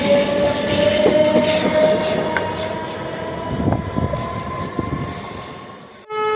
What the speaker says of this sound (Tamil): இப்போ நம்ம பார்த்துட்டு என்ன ட்ரெயின்னா Madurai Lokmanya Tilak super fast express